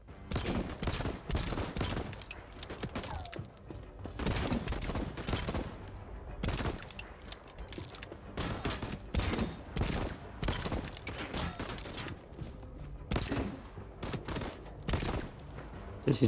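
Assault rifle fire in the video game Voidtrain: loud, rapid bursts of automatic gunshots repeat throughout, with brief gaps between volleys and no talking.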